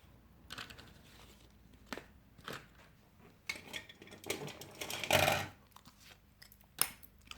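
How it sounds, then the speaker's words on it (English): Quiet snipping and rustling of scissors cutting card, several brief crisp cuts with handling noises between. "I'm just going to cut a small amount off here."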